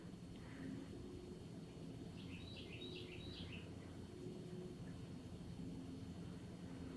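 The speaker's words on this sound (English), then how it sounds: "the birds, you guys, they're out in full force singing y'all a song." Outdoors, a few small bird chirps rise briefly and faintly in a quick cluster over a steady low hum like a distant lawn mower.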